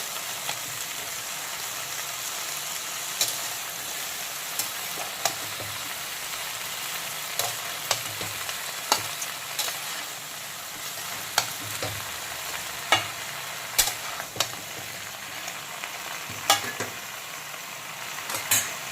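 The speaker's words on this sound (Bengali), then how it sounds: "এখন পুঁই শাক, কুমড়ো, রাঙা আলু, কাঁকড়া, পেঁয়াজ কুচি সব কিছুর সঙ্গে ভালো করে মিক্সড করে নেব।" Malabar spinach, pumpkin, sweet potato, crab and chopped onion stirred together in a pan, with a steady sizzle of frying under repeated scraping and clinking of a spatula against the pan, close and continuous with no talking.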